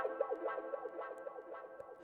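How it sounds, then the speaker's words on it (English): Electric guitar notes sweeping through a wah effect, EQ'd with much of the low end removed, the tone rising and falling in quick repeated waves with an echoing tail, fairly quiet. "This wah wah is what I call it. It's just a guitar wah."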